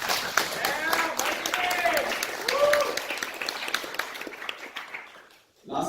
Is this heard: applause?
yes